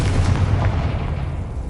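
Confringo fire spell from Hogwarts Legacy bursting in a deep, heavy boom with a rumbling low-end tail, loud and close over less than two seconds.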